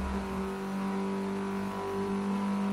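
A Nissan IDx engine from Forza Motorsport 6 drones loudly and steadily inside a tunnel, a continuous held rev with no voices over it.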